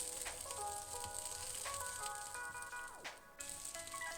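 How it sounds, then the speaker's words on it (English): Sliced spring onions, halved lengthways, sizzling in duck fat on a flat top, a faint steady hiss with light crackles and a few clinks and tonal squeaks. "in that fat that's sitting on the flat top, we're going to get some sliced spring onions"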